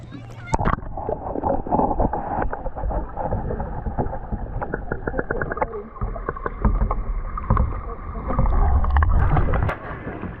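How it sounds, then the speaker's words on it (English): A kayak is paddled across water in Olympic National Park, with repeated paddle splashes and knocks against the hull close by, and a low rumbling wash beneath while people talk. "I think we're gonna row down that way a little bit more"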